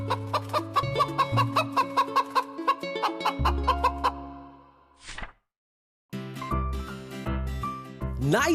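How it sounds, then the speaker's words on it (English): Hens cackle and cluck in quick repeated bursts, close and loud, followed by a brief pause and more clucking. "Hens cackle."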